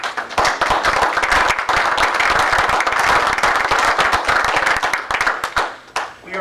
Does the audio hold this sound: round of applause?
yes